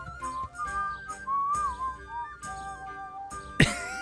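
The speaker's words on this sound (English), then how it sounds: "He's whistling." A character in the medieval video game Kingdom Come Deliverance whistles a short, wavering tune in bright clear notes, with a brief clink near the end and no speech.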